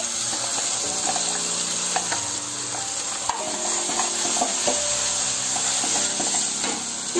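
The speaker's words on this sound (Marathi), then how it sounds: "आपण या तेला फोडणीमध्ये घालूया." Dried-fish chutney hisses and sizzles loudly in hot tempering oil, a dense, steady crackling roar with small pops and bubbling, heard close up without talking.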